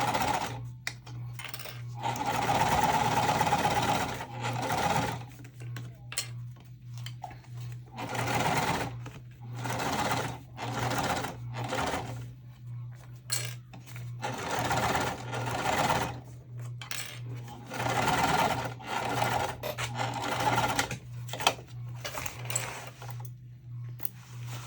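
A sewing machine topstitches the lining of a tote's slip pocket in long, steady runs of rapid needle stitching, pausing briefly between bursts, close and clear with no talking.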